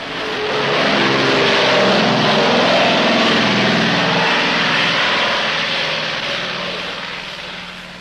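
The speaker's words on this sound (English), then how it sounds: "this strip handles 900 takeoffs and landings each day" A propeller aircraft roars loudly and close at a remote jungle airstrip in Laos, swelling to a steady engine drone and then slowly fading as it passes.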